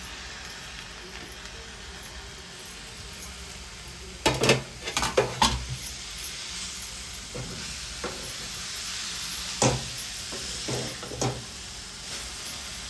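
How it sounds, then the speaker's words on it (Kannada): Chopped green leafy vegetables fry in a pan under a steady sizzle, while a spatula clanks and scrapes in irregular bursts, busiest in the middle stretch. "ಇದನ್ನು ಒಂದು 5 ನಿಮಿಷ ಕಾಲ ಫ್ರೈ ಆಗೋವರೆಗೂ ಸ್ವಲ್ಪ ಫ್ರೈ ಮಾಡ್ಕೊಳ್ಳಿ."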